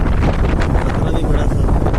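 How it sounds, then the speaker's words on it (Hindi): Strong wind buffets the microphone in a continuous loud roar at a lakeside or waterfall valley viewpoint, steady and broadband throughout. "इतनी तेज हवा चल"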